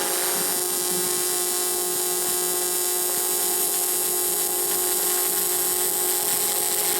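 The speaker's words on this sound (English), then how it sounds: "Oh, that arc is just so smooth." A TIG welding arc from a Lincoln Squarewave welder, a steady loud buzzing hum with a bright high hiss that holds unbroken throughout, with no talk over it.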